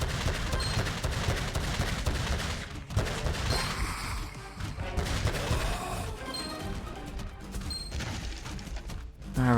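Dense, rapid gunfire blasts at hovering robots in a video game, with bullets ricocheting off walls and crashing impacts, loud and nearly continuous throughout.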